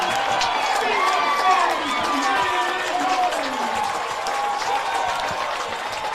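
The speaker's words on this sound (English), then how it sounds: "several hundred fans on their feet clapping" Several hundred fans at a high school football game clap and cheer after a touchdown, a dense, sustained wash of applause and crowd voices with a commentator talking over it.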